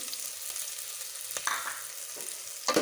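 Onions browning in a pan for potato samosa filling, a soft, steady sizzle and hiss with occasional stirring scrapes and small clicks, no voices over it.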